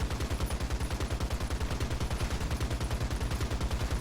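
Rapid automatic gunfire in a video game, a steady stream of evenly spaced shots hammering on without pause for the whole stretch, loud and close.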